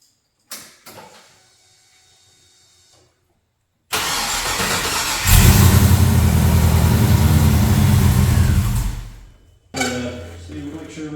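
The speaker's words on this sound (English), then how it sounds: "it should fire right up and hold an idle." An LS V8 is started for the first time after its oil system has been primed. After a few clicks and a short silence, the starter cranks and the engine catches, then runs at a loud, steady idle for several seconds before cutting off and restarting briefly.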